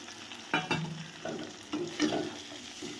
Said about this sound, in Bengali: এবার মশলাটা আমি দিয়ে দেব কড়াইতে পেঁয়াজ আর টমেটো ভাজার মধ্যে।